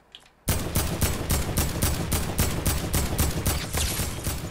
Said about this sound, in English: I have a bad habit, guys, of crouching when I'm shooting.